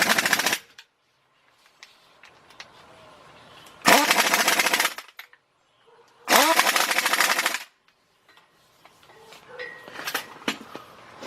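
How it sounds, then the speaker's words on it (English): Bursts of a pneumatic impact wrench tightening three 14mm bolts on a 2003 Nissan Maxima GLE 3.5 engine during a partial rebuild, loud rattling runs of about a second each separated by quiet gaps. "Let's tighten those bolts up. 3 14mm bolts."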